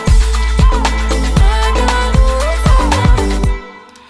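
A pitched-up, EQ'd vocal shout sample with its low end trimmed, played for a remake of Dua Lipa's New Rules. It repeats in short melodic bursts over steady thumping pulses, then cuts off abruptly just before the end.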